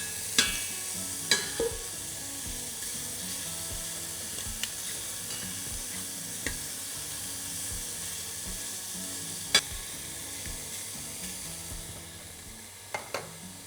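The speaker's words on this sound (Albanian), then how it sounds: "në të njëjtën enë ku piqen karkalecat, aty do ta shtoj orizin" Shrimp cooking in a pan for creamy rice give a steady, quiet sizzle that continues throughout, with a few sharp clicks and taps of a utensil against the pan; no voices.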